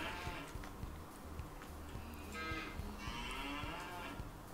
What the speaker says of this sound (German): Ja, die Kühe melden sie auch.